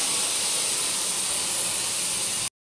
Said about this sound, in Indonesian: Jadi kereta apinya datang dari sana.